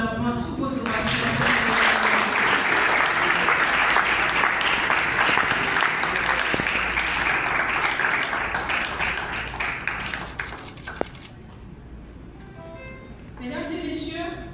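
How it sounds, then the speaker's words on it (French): A large audience at an official ceremony in Haiti applauds government members, dense sustained clapping that fills the space and then tapers off toward the end. "On applaudit les membres du gouvernement sous vos ovations."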